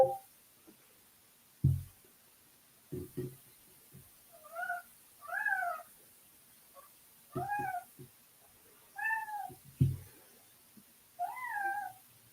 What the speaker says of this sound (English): I'm gonna let this cat in and we'll get started.